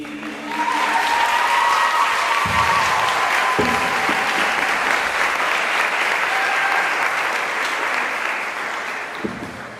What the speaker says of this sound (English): Give them a round of applause again, everybody.